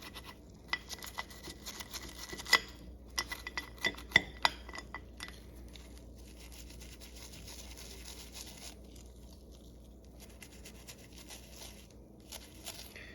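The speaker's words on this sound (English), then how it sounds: "Take the brush and work the oven cleaner into all the different joints." A small brush works oven cleaner into the joints of a chrome-plated Kenner Star Wars Death Star droid figure, with a run of sharp close clinks and taps at first, then a steady, soft scratchy scrubbing that continues alone without voices.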